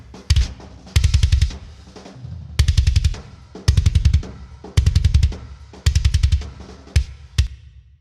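A metal-style kick drum treated with an SSL-type filter that boosts the highs, pounding in rapid double-kick bursts of clicky, bright hits over a deep low thump, loud and alone.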